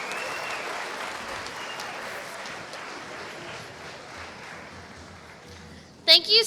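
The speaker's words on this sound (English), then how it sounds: "Give yourself a big round of applause." Assembly crowd at the 2017 Arkansas 4-H State O-Rama opening session applauding: steady, dense clapping that slowly fades, then a voice speaks loudly near the end.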